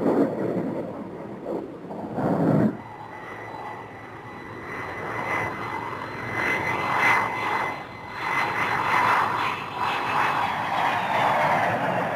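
An F-14 Tomcat jet's engines roar steadily at a distance, a broad rushing drone that swells and fades over several seconds with a brief dip early on.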